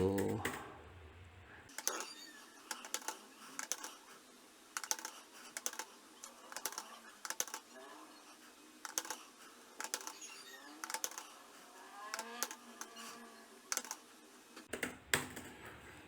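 Rapid bursts of keystrokes on a computer keyboard while entering vote-tally data into an Excel spreadsheet, close and crisp, with irregular pauses between runs of typing in a quiet room.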